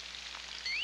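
Faucet water runs in a short, steady hiss, fairly quiet and close, with a thin rising whistle toward the end.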